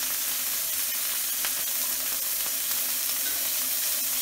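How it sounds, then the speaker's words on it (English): Venison steak sears in a hot pan with a steady, even sizzle and hiss that continues without pause at moderate volume. "You only want to sear even the big one for about a minute."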